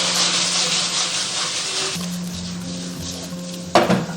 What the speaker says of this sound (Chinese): 我们下入蒜苗，引入一点芝麻香油增香，然后翻炒均匀就可以了